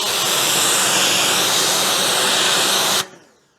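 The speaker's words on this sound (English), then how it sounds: "if I give it the jet wash" A pressure washer blasts a ceramic-coated car with a loud, continuous jet-wash hiss for about three seconds, then cuts off abruptly into quiet.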